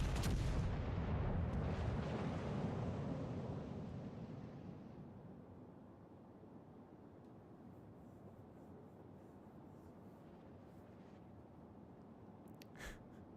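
Battleship broadside in World of Warships Legends: a heavy, booming gun blast opens loud and rolls off into a long fading rumble, leaving a quiet low hum and a faint click near the end.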